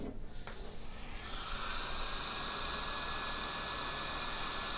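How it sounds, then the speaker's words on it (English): A heat gun blowing over heat-shrink tubing on a soldered wire: a steady, loud hissing roar with a hum underneath, holding level throughout and heard alone. "I'm going to take my heat gun"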